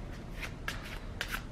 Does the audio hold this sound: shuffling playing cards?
yes